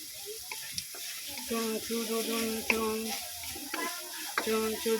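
Vegetables go into a frying pan of simmering mung bean stew cooked with prawns, giving a soft sizzle with scraping stirring strokes and small clinks throughout, close and steady, with no talk.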